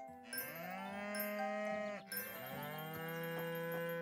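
A goat in a video game gives a sustained, harmonic bleat that dips briefly and then resumes, loud and close, with no talk over it.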